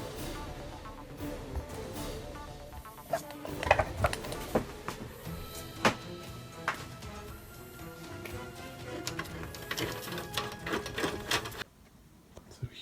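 An upgraded Monoprice 3D printer with vertical supports runs nearby, its stepper motors whirring and ticking in quick irregular bursts and clicks over a steady mechanical hum, cutting off near the end.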